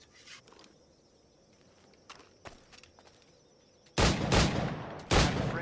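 Gunfire in the video game Assassin's Creed 4 Black Flag: two loud, heavy bursts of shots break in near the end after a quiet stretch of ambient noise and scattered light clicks.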